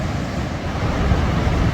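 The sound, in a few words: Khone Phapheng waterfall water rushing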